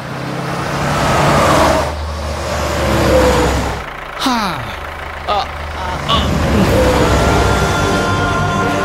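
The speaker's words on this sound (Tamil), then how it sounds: "வண்டி கிளம்புது வரட்டா?" A vehicle starts up and drives off, its engine rumbling and revving in surges over several seconds with a few sharp bumps and gear-change sweeps, mixed with street ambience and voices.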